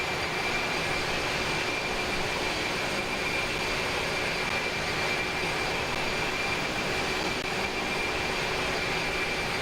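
Jet engines of an A300-600R in a flight simulator give off a steady, continuous broadband roar with a faint high whine, constant in level throughout and free of talk.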